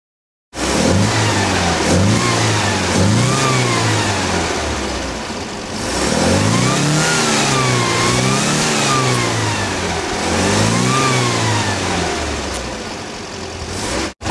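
A Pinzgauer engine fresh from an ignition conversion revs up and settles back several times, its rising and falling note loud and close throughout with no talking.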